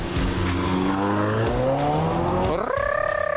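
Porsche Macan and Seres crossovers launching side by side in a drag race, engines revving hard with rising tones and a sharp upshift near the end, tires briefly chirping, loud and close.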